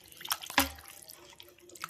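Raw chicken is washed quickly in water, producing a few faint close drips and small splashes. One sharper splash stands out among quieter trickles.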